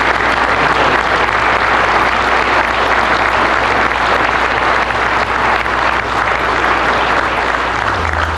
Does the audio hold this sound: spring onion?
no